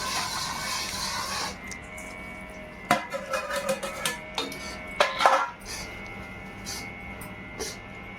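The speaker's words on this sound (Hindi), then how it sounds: "अब मैं इसमें सारी मेवा डाल दूंगी।" Mixed dry fruits are tipped into panjiri in a metal pan, giving a scatter of clattering knocks and rattles with a few sharper clinks against the pan, moderately close with no talk.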